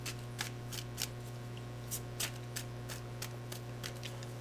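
Playing cards are shuffled repeatedly, with crisp riffling bursts at a steady rhythm, close and fairly quiet over a low steady hum.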